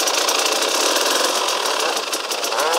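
A KTM EXC 300 two-stroke dirt bike runs at low revs as the clutch is slowly let out, giving a close, steady buzzing engine note with a slight rattle and a brief dip near the end.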